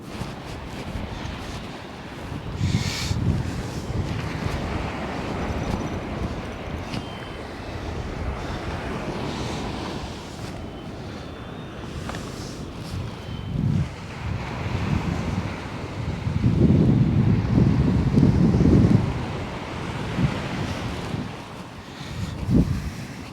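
Strong wind gusts across a beach at Sutton on Sea, a rough, rumbling roar that swells and buffets the microphone in waves, with surf faintly underneath and no talking.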